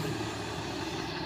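A loaded Volvo trailer truck carrying 45 tons on a hill, its engine a dense continuous rumble and roar, steady and close with no breaks.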